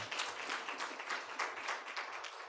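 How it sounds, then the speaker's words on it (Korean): A church congregation claps during a Sunday morning service, a fairly soft, steady round of applause from a mid-distance crowd, filling the whole moment without talk. "우리 또 박수 한번."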